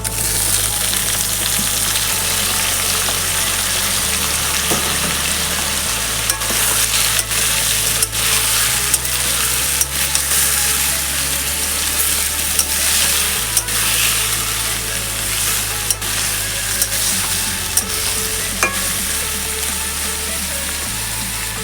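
Fried vegetables tipped into a hot pan of curry with chilli paste, sizzling loudly and steadily throughout with occasional scrapes and clinks of stirring, no voices.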